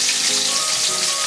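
Pork intestines frying in hot oil for chicharon, a loud, dense, even sizzle close up with no voices.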